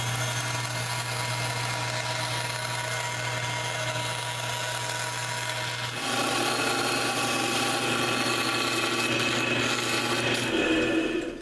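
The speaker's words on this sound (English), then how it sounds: "So I'm going to cut out a shape on the bandsaw." Steady, close whine of a bandsaw cutting a shape, with a constant motor hum under the blade noise and a rougher, louder cut partway through.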